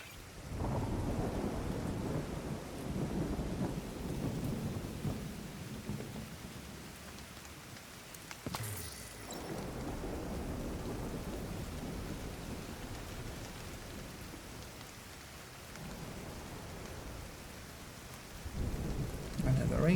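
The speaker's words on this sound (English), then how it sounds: "The rain kind of sucks." Steady rain with repeated rolling thunder in a video game, including a sharp close crack midway, continuing throughout with no talking over it.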